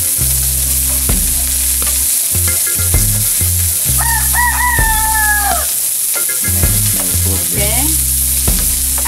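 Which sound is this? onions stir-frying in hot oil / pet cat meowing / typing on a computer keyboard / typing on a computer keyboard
onions stir-frying in hot oil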